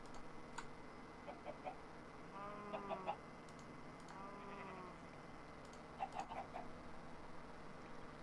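Chickens in the Minecraft Sky Factory 3 game cluck in short bursts, a few clusters of clucks spread over a faint steady background.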